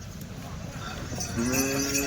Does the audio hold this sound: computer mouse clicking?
no